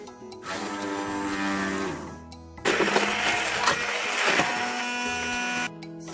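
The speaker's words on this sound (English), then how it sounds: "So we have our stick blender ready." A stick blender purees parsnips with a steady motor whine that jumps louder and harsher midway as the blade bites into the mixture, then cuts off abruptly, close up.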